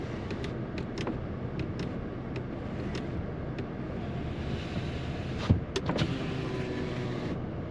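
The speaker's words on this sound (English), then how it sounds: "It just randomly will put the window down" A Ford F-150 pickup's power window whirs down in the quiet cab, a faint steady motor hum with small clicks and a louder thump partway through.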